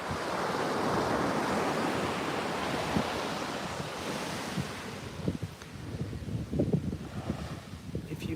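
Ocean surf washing onto the beach at Playa Conchal, Costa Rica, a continuous broad roar with wind buffeting the microphone, then a lighter stretch with crunching footsteps and small rustles.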